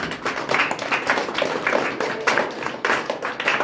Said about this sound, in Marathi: एकदा या कलाकारांसाठी एकदा टाळ्या वाजल्या पाहिजे.